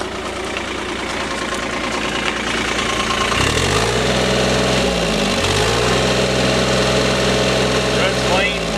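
A 2015 Caterpillar 303.5E CR mini excavator's diesel engine runs loud and close, climbing in pitch as it revs up twice, then holding a higher steady drone before easing back.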